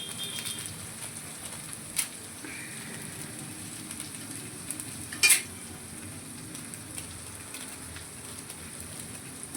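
Pasta tossed with two packets of noodle seasoning in a pan: a faint, steady sizzle under occasional utensil knocks, with one louder scrape past the midpoint, close and without talk.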